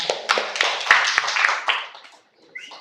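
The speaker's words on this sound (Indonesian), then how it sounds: "Beri aplaus dulu untuk Bapak Muhammad Abdul Pak." A small group in a training discussion session applauding a presenter, a short burst of close hand claps that fades out after about two seconds.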